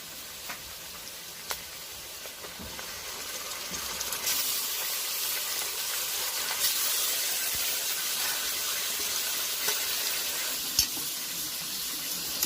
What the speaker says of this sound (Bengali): এবার আমি এই মাটনটা অনেকক্ষণ ধরে কষাতে থাকবো।